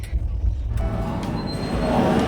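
A train rumbles heavily at close range at Vijayawada railway station, with faint metallic squeals and hums rising as it moves through the station.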